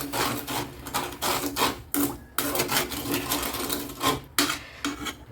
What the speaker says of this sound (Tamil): இப்போ நல்லா இதை அப்படியே கிண்டி விடுங்க